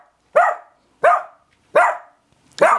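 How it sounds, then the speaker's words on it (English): A beagle barks at another dog beyond a window, four sharp, loud, close barks spaced evenly about every seven-tenths of a second. "He's being kind of loud because there's another dog on the other side of the window."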